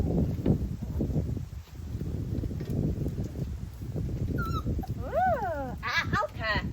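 Puppies whimper and yip in high, wavering cries near the end, following a stretch of shuffling movement and background noise.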